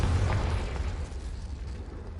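Incendio fire spell cast in the video game Hogwarts Legacy, a deep roaring whoosh of flame with a heavy low rumble that swells at the start and slowly fades over a couple of seconds.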